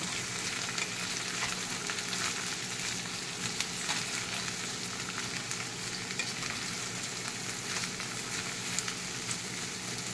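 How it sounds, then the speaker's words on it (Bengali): Eggplant, ridge gourd and pumpkin sauté in a pan for labra, a continuous moderate sizzle with occasional stirring scrapes, close and even throughout, no voices. "এটাকে বেশ করে একটু কষিয়ে নিতে হবে ভাজা ভাজা।"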